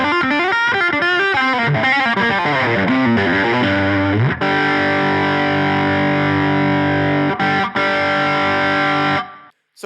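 Distorted electric guitar through an amp-in-a-box pedal with the bass end cut, playing a quick run of notes and then sustained crunchy chords, loud and alone before cutting off abruptly.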